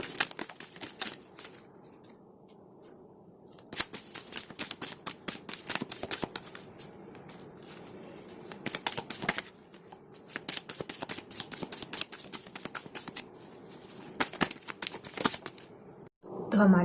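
Tarot cards are shuffled by hand at close range, with repeated soft riffling and slapping bursts in an irregular rhythm over about seventeen quiet seconds.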